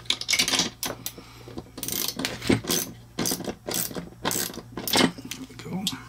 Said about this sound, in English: we'll grab these two ratchets here and loosen that up